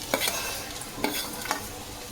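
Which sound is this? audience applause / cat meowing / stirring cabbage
stirring cabbage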